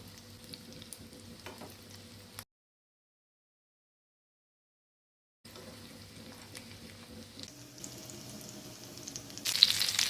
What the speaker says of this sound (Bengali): আমি কম তেলে পাকোড়াগুলো ভাজছি